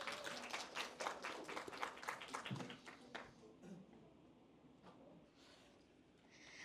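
Audience at the Dongdaemun children's policy proposal contest applauding a child presenter onto the stage: brisk, full clapping for about three seconds that thins to a few claps, then quiet room tone.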